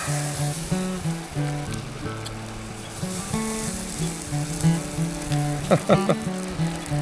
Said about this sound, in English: Hear that sizzling there.